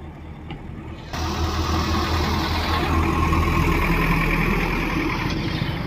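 A motorbike engine idles in Sylhet, a close, loud and steady rumble that swells after the first second and holds without a break.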